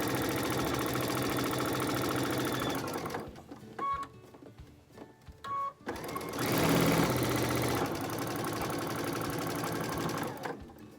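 A sewing machine stitches quilt block pieces across a nested seam, running in a loud steady whir, pausing briefly with a few short bursts, then resuming its continuous drone to the end.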